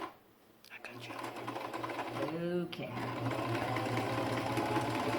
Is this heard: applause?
no